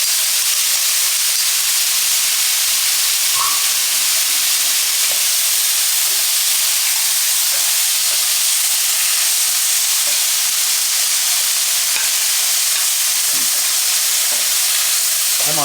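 Frozen peppers and onions frying on high heat in a pan, a loud steady sizzle and hiss with scattered pops and crackles throughout.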